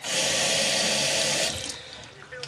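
Water runs from a tap to fill a flower vase, a strong, close hiss that pours steadily for about a second and a half, then softens and sputters as the flow changes.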